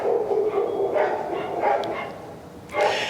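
Several dogs bark in bursts from a short distance, with overlapping yips and a louder cluster of barks near the end over a steady background hiss.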